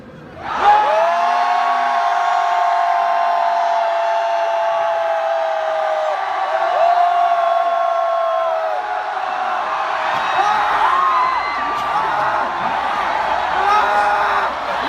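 A large festival crowd at a Korean university concert roars a long, sustained shout on cue, building and holding for many seconds, with whoops and overlapping voices in a dense, loud wash of sound.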